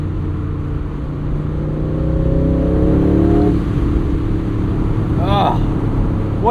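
A 670hp V8 in an Aston Martin Vantage S roadster drones at steady load, then revs rise and fall with a rising engine note, loud and close under a voice.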